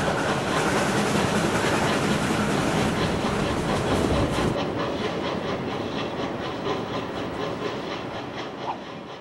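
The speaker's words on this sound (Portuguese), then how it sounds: "agora vamos embarcar no trem do Pantanal em direção a Corumbá" Pantanal passenger train running on rails toward Corumbá in Brazil, a loud continuous rumble and rattle of wheels with rhythmic clacking, fading slightly in intensity toward the end.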